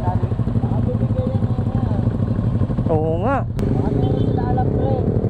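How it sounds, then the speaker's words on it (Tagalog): A motorcycle on a ride to Tagaytay, its exhaust loose from a missing screw, rumbles steadily and close throughout, with a brief rising whine near the middle. "yung tambutso natin nawala ng tornilyo. Putik na yun, umaalog."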